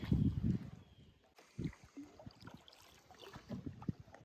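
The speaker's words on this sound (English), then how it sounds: "It's not very ergonomic paddling, Fern." A paddle dips and pulls through water beside a loaded canoe carrying a Boston Terrier, giving soft splashes and low gurgles, faint and close, in an irregular rhythm.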